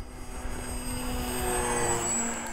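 E-Flite Maule M-7 radio-controlled plane on skis flying overhead at speed in a snowy setting, a steady thin electric propeller whine that rises and shifts in pitch as it passes.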